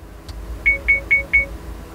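An Urvolax rear-view mirror front-and-rear dash cam sounds four crisp menu beeps in quick, even succession, near and distinct against a low background hum, with a faint click just before them.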